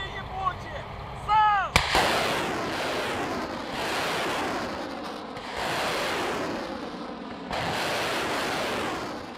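Army long-range rockets launching at dusk, a sharp blast followed by repeated loud roaring whooshes as successive rockets fire, each rumbling off into the distance, with faint voices and chirping just before.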